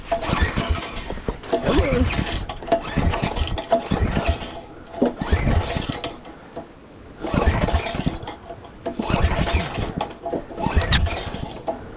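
A Predator 420cc rental kart engine, left sitting for a while, is pull-started repeatedly: several bursts of cranking and sputtering separated by short pauses, close and fairly loud, with no voices.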